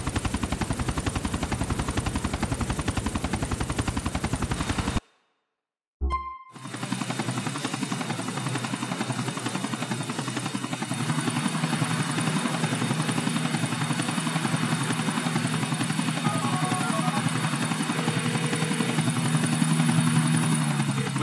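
A helicopter in GTA 4 thrums loud and close with a constant rotor drone, briefly cutting to silence after about five seconds before the steady whir resumes for the rest of the clip.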